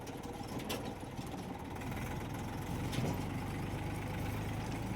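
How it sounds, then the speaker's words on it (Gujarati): A tractor engine runs steadily at a pond where soil is being loaded, a continuous low mechanical drone with a faint rattle, moderately distant and quiet, with no talk over it. "તો આપણે ટ્રેક્ટર પાર્કિંગ કરી દઈએ જગ્યા જોઈને"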